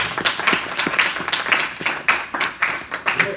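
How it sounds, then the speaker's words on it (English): An audience at a church women's conference claps hands in a rough, loose rhythm, a run of distinct claps close by that carries on without anyone speaking over it. "Clap your hand for what you say."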